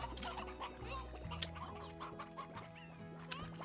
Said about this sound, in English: Now we have some chickens, we have some food.